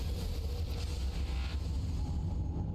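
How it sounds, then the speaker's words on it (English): A submarine engine powers up in the underwater game Subnautica, a steady low rumbling hum with a faint airy hiss that holds even and alone throughout. "Engine powering up."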